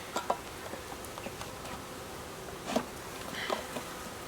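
A soft, diffuse buzz of many honey bees, being installed from a package into a hive, hums steadily in the background, with a few faint taps and rustles but no talking.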